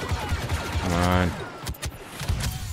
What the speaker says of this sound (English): I'm getting shot a lot